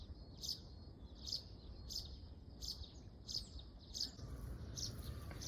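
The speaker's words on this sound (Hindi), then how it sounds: "एक चिड़िया पता नहीं कौन सी बहुत आवाज़ कर रही है" A tiny bird outdoors in the mountains chirps in a steady repeating pattern, about eight sharp high tweets spaced under a second apart over a soft background hiss.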